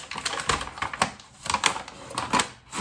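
A small paper gift bag from a handmade Advent calendar is unwrapped up close, giving a steady run of crisp crinkles and rustles without talk.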